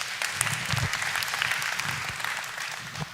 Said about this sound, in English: since you got applause